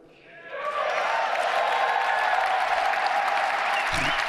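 Crowd applause at a presidential inauguration swells within half a second into a broad, sustained roar of clapping and cheering from a large distant crowd, holding steady to the end.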